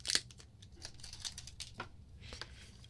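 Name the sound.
taking the wrapper off an Apple Pencil second gen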